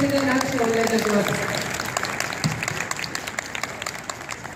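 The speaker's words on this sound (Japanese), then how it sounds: "皆さんもう一度盛大な拍手をお願いいたします" Applause from an audience at a judo club demonstration, starting with a brief voice then thinning gradually into scattered claps as it fades.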